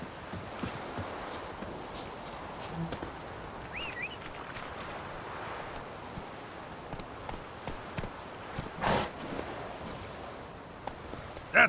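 Horse hooves clip-clop quietly along in The Witcher 3 video game, a faint steady walking rhythm under soft ambient noise.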